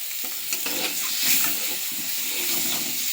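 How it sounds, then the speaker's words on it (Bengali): Eggs frying with salt and turmeric in a little oil in a wok: a steady close sizzle and hiss, with scraping stirs across the whole stretch. "দিয়ে ডিমটা ভালো করে ভেজে নিচ্ছি"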